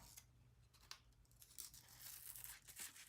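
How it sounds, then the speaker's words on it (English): Hot foil peeled slowly off a metal craft die, giving a faint, crinkly tearing rustle that builds toward the end and finishes with a short sharp crackle. No one speaks. "Let's take this off and let's peel and see what we got."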